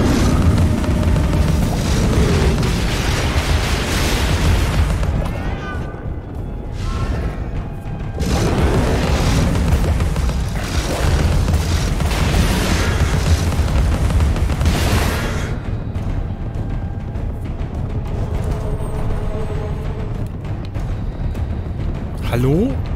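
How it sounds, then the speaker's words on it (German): Teapot cannon shots from the video game Alice: Madness Returns burst in heavy, repeated booms and explosions that fill the mix, with a player talking over the gameplay. "Nee, ich mach das mit der T-Kanone."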